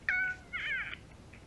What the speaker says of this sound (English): I don't like those kitty noises